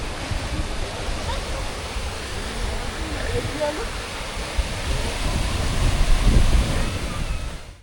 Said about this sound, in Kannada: ಪ್ರವಾಸಿಗರ ಕಲರವ ಸಮುದ್ರದ ಅಲೆಗಳ ಶಬ್ದದೊಂದಿಗೆ ಬೆರೆತು ಒಂದು ಸುಂದರ ಅನುಭವವನ್ನು ಕೊಡುತ್ತದೆ